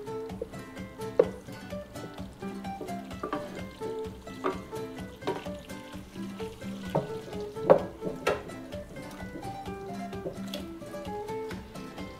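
Butter for a cheesecake base melting in a frying pan, giving a soft, steady sizzle with occasional light scraping and stirring knocks from a utensil, close by and fairly quiet.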